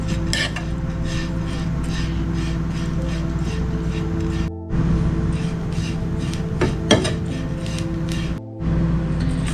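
Ground broken wheat roasting dry in a pan, with constant clatter and scraping of a utensil stirring against the metal in a busy rhythm, two brief pauses, and a low hum underneath.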